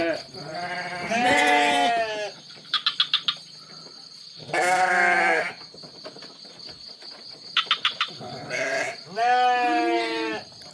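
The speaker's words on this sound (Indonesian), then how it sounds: "Ini banyak suara kambing ya, karena di sini banyak kambing." Goats bleat repeatedly in a village deep in the forest, four loud, close, drawn-out cries in turn. Bursts of cricket chirping come between them over a quiet background.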